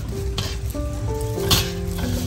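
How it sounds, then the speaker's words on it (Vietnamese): Spring rolls sizzle steadily in hot oil in a home kitchen, a continuous close frying hiss with faint clinks of utensils and no talk. "Chiên nó mau nữa."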